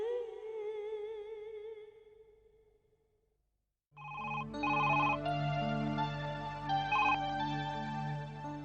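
An incoming call sets off a telephone ringtone: a bright, loud electronic melody that repeats its tones steadily. It starts suddenly after a song fades into a moment of silence.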